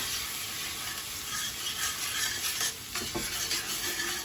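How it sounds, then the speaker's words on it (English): A sauce of orange juice, orange zest and sugar simmering in a pan for crêpes Suzette, a dense steady bubbling hiss with a faint scrape or two midway, and nobody speaking. "And as it's simmering, you're looking for it to get slightly syrupy"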